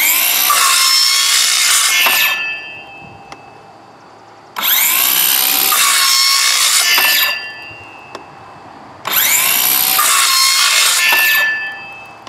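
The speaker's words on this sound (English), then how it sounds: "I'm going to saw this a bit and you'll see how I do it." Well casing pipe being sawn for a shallow hand-dug well: three loud, sustained rasping bursts of cutting, each a few seconds long, separated by short quiet pauses, with no voices.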